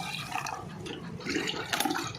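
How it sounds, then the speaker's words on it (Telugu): Water splashing and gurgling as it is poured into a bowl nearby, a steady rushing flow with a slightly louder burst toward the end. "నీళ్ళు పంపేసుకున్నాక మళ్ళీ కొత్తగా నీళ్ళు పోసుకోవాలి"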